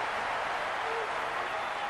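Crowd applause in a tennis video game, a steady wash of clapping at moderate level lasting about two seconds, with a voice faintly underneath.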